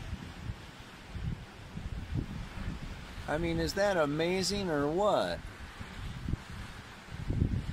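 Wind buffets an outdoor microphone with low rumbling gusts throughout, while someone talks over it in the middle.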